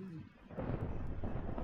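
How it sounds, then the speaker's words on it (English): Thunder from lightning in Minecraft, a low rolling rumble that swells after a brief quiet start and keeps grumbling steadily to the end, moderately loud, with no talk over it. "Jesus Christ, lightning!"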